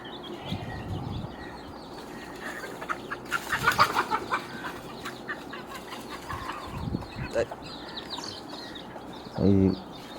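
Country chickens and two roosters in a yard being shooed about: scattered clucks and squawks, a burst of wing flapping, and a short loud rooster call near the end, with a voice speaking at times.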